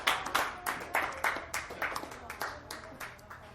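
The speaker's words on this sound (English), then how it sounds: "another round of applause for the God, Jason Delgado" Audience applause at a dive bar comedy show, a short burst of rhythmic, fairly evenly spaced claps that stay moderately faint and close.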